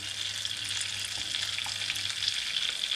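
Endives fry and caramelise in a pan, giving a steady close hiss of sizzling fat with a few soft crackles and small pops throughout.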